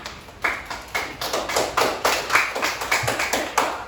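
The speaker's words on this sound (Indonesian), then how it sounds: "beri aplaus untuk kelompok yang bertanya" A classroom group is applauded, a steady patter of many hands clapping together, lively and close, carrying on for several seconds with rhythmic swells and no talking over it.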